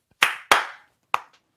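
Three sharp hand claps imitate a booty clap: two quick close smacks, a brief pause, then a third, all crisp and alone.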